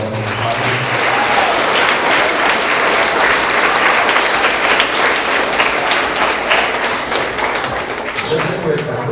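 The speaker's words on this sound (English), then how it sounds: "if we can give them a round of applause" Audience applause at an end-of-year award assembly for third to fifth graders, loud sustained clapping from parents and children filling the room, steady throughout and easing slightly near the end.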